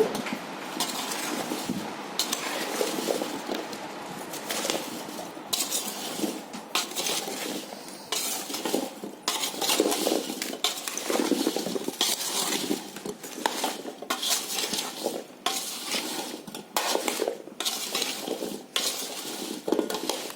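Raw mango pieces are mixed with turmeric in a bowl for pickle, giving repeated scraping and clinking of a spoon against the dish in uneven bursts, close and fairly quiet, with no speech.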